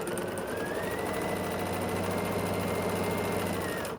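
Sewing machine running steadily as it stitches a pieced sailboat quilt block onto a fabric rectangle, a continuous close whirring hum with fine rapid needle ticking, no voices, holding unbroken for the whole stretch.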